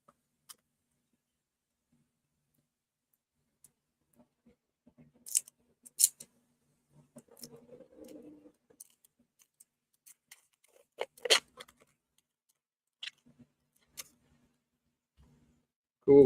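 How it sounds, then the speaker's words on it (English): A piece of tape being peeled and handled while bagging reprinted comic books. It comes as a few sparse, quiet clicks and crinkles with a short soft rustle in the middle, separated by long near-silent gaps. "Piece of tape."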